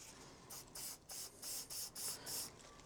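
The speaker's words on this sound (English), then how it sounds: "spray a bit of penetrant onto the fuel tap" Short bursts of penetrant spray hit the fuel tap of a 30-year-old abandoned motorcycle, about six quick hissing squirts in an uneven rhythm, close but fairly quiet.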